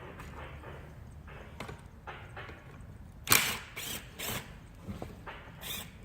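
Small Torx T27 screws being worked loose from the cover of a Stihl BG 55 leaf blower, giving soft scattered mechanical clicks and scrapes close by, with one sharper metallic rattle partway through.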